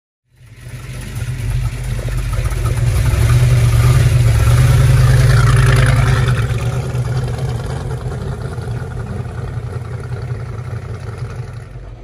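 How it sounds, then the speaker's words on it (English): A 1966 Chevrolet Biscayne with a 427 L72 big-block V8 fires up and rumbles loudly through exhaust headers into 3-inch exhaust, swelling to a deep steady roar and settling into a heavy, lopey idle, close and continuous. "Look at the size of those headers breathing into 3-inch exhaust."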